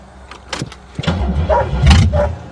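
A car on a farm cranks with a few short churning bursts, then catches and rumbles loudly at close range in a quick start-up.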